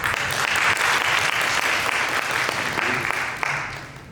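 Concert audience clapping for the third violins of a youth symphony orchestra, a sustained loud round of applause that eases off slightly near the end.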